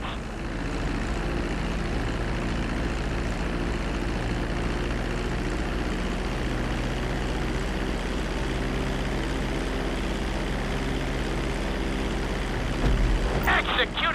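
A plane descending toward the runway in GTA 5, a steady loud droning engine hum held throughout at close range, with a brief rattling bump near the end.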